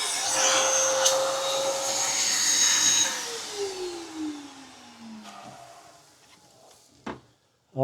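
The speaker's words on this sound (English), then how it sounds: "Let this vacuum a little bit." A vacuum cleans walnut blasting media out of a BMW N54 engine, a loud, close, steady whine whose pitch falls as the suction winds down. A sharp knock follows near the end, then a short silence.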